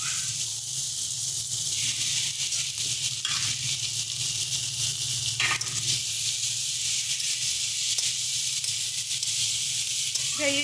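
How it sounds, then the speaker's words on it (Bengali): Pre-fried okra (bhindi) going into a hot pan of shrimp curry, giving a loud, steady sizzle across the whole stretch, with brief surges as the pieces land and settle. "তো চলো দিয়ে দিচ্ছি আগে থেকে ভেজে রাখা ভেন্ডি।"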